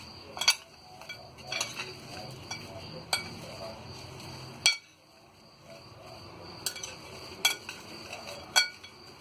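French fries being tossed with fresh green coriander in a pan, with repeated clinks and scrapes of a utensil against the metal in uneven bursts over a soft background sizzle.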